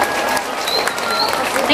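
Loud audience applause at a gathering, dense continuous clapping close up with crowd voices mixed underneath.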